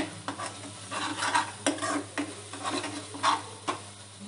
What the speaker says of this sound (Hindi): अब हम इसको थोड़ा सा मिक्स कर लेंगे और पकने देंगे